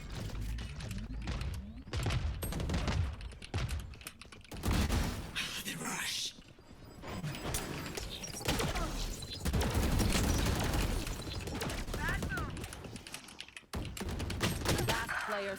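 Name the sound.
missile barrage fired in a video game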